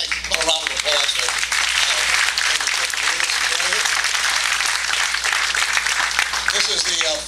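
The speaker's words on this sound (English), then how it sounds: "Put a round of applause for" Audience applause at a health care policy forum in Derby, Connecticut, broad steady clapping filling the room for several seconds at close range, with no one talking over it.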